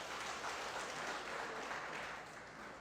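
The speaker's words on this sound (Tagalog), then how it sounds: "Isang malakas na palakpak para sa ating Panginoon." A congregation at a church worship service applauds with a steady, dense wash of clapping that is fairly faint and distant and tapers slightly at the end.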